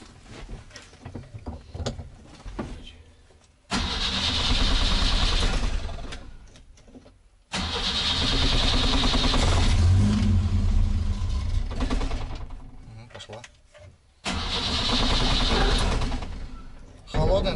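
A 1992 Moskvich-412 with an IZh engine, idle for 20 years, cranks with the starter in three long loud bursts separated by pauses, and the engine catches roughly on the later tries. People speak between the attempts.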